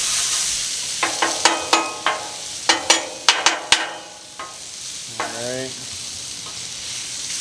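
Onions and mushrooms sizzling on a Blackstone griddle, a loud constant hiss punctuated by a quick run of sharp metal spatula taps, then a brief spoken word and a fading sizzle.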